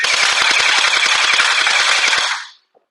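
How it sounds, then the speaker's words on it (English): A YOJOLOIN M4 Wasp gel ball blaster with a drum magazine firing rapidly: a loud, steady stream of fast, evenly spaced mechanical shots with a whirring motor, lasting over two seconds before stopping abruptly. "You can see that rate is really nice. Definitely shooting fast."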